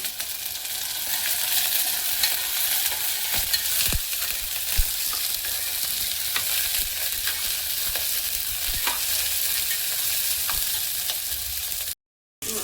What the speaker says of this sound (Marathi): सर्व सोललेलं साहित्य ह्यात टाकायचं तेलात आणि भाजून घ्यायचं